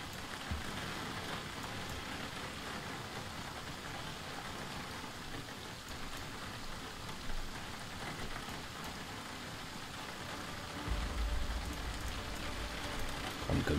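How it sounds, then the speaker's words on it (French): Heavy rain in the Project Zomboid video game, a dense, steady hiss of downpour drumming on surfaces throughout, close and loud with no voices, growing slightly heavier near the end. "La pluie fait tellement de bruit que j'avais l'impression qu'un zombie était en train d'arriver."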